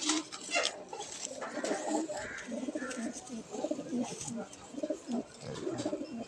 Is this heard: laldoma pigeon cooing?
yes